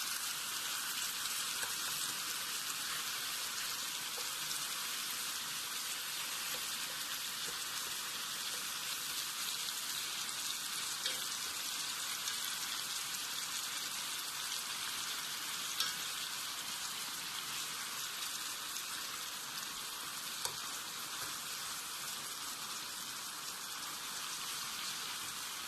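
Frozen beef slices stir-fry over medium-to-high heat for Japanese-style beef and potato stew, giving a steady, dense sizzling hiss that runs unbroken and evenly loud throughout, with no talking.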